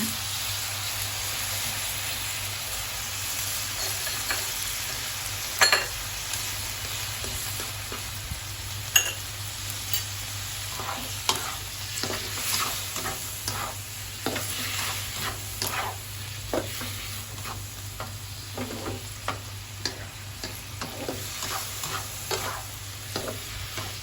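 Eggplant stir-fried in a pan with a prepared sauce, a soft continuous sizzle under a low hum, with scattered utensil clicks and scrapes from stirring throughout.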